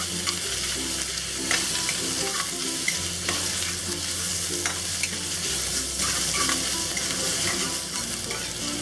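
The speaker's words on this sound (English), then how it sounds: "And we'll let the shrimp cook for about a minute." Shrimp stir-frying in a hot pan for stir-fried shrimp with eggs: a steady, close sizzle with scraping and stirring strokes throughout, no voices.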